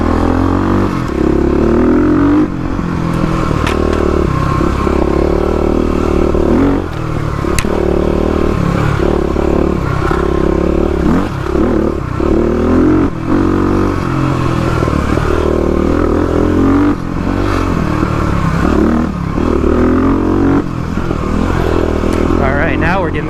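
A Stage 3 Kawasaki KLX351 dirt bike accelerates along an off-road OHV trail, its engine droning loud and close with rising revs and clatter over rough ground, and brief talk at moments.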